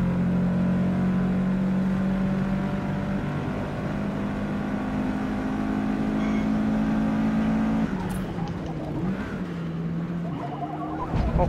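Front-wheel drive car engine in Forza Motorsport during a rainy rolling start, droning steadily and loud at constant revs for about eight seconds, then easing off and shifting pitch with tire and game effects, no talk.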